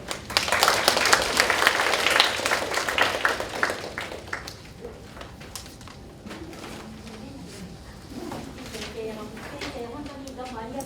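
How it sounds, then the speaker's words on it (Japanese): A seminar audience applauds at the close of the event, a dense burst of clapping that thins and fades after a few seconds before a voice carries on speaking. "拍手をお願いします"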